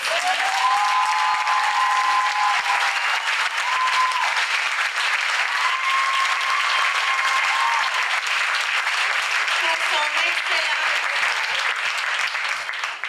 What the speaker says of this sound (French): J'aimerais qu'on lui donne une bonne main d'applaudissement.